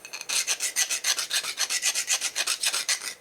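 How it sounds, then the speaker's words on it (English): Hand file deburring the edge of a custom-made metal bracket for a Harley, about twenty even rasping strokes in a quick steady back-and-forth rhythm, close and crisp with no talking. "then you just do it with a file like this"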